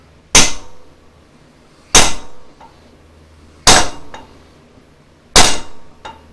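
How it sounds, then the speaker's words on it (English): A heavy hammer strikes the front axle U-joint of a 2004 Dodge Ram 2500 four times, each loud metallic clang ringing out alone with roughly even pauses between blows. "I had to go get a bigger hammer."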